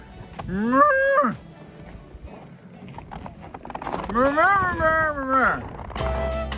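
Cattle answer calls with two long, loud moos a few seconds apart, each one rising and then falling. Quieter lowing and rustling fill the gap between them.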